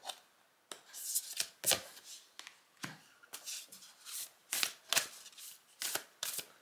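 Repeated crisp riffling bursts of tarot cards being shuffled by hand, close up, in an irregular rhythm with short pauses between.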